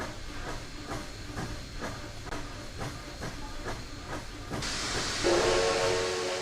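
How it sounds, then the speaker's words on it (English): A steam locomotive approaching from a distance chuffs in steady rhythmic puffs, then a loud hiss of steam bursts out and a shrill whistle sounds, fairly close. "Shortly, a steam whistle was heard in the distance."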